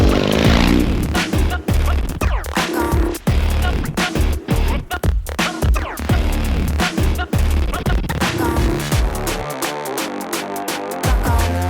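A 1967 Triumph 500cc vintage motorcycle ridden off road on a green lane in England, the engine loud and close with a rough, pulsing note that surges and dips as the throttle changes.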